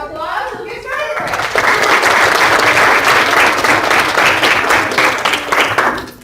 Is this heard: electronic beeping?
no